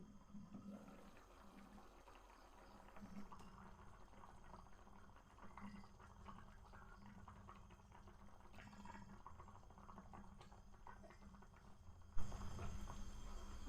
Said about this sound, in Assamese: অকণমান উতলিবলৈ দিম।